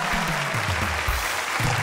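Brief studio audience applause on a Colombian television talk show, loud and steady throughout, with low voiced sounds running underneath.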